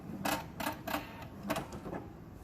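A home sewing machine makes a quick run of sharp mechanical clicks and clacks as it trims its threads, a handful of brief taps fairly close in a quiet room.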